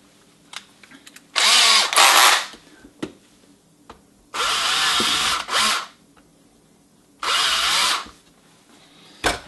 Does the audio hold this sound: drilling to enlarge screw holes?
yes